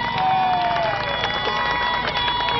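A crowd at an outdoor municipal street repair event in Jarabacoa claps and cheers, a dense, loud burst of applause with mixed voices throughout.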